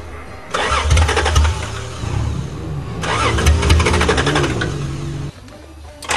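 A 1982 Toyota Cressida engine cranks and catches, runs loud and rough for several seconds, stumbles and restarts, with its uneven revving close by and no talk over it.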